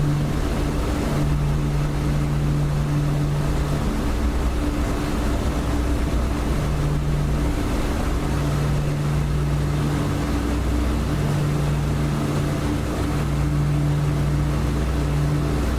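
Aircraft engine in the DCS flight simulator held at about 3,000 RPM, a steady droning hum with constant tonal bands under airy rushing noise, unbroken and loud throughout with no talk.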